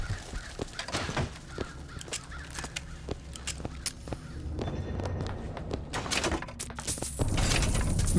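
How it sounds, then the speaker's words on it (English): Crows cawing in the video game Bioshock Infinite, repeated sharp caws scattered across several seconds amid footsteps, clattering and mixed game noise, fairly close and loud. "These crows are so overpowered."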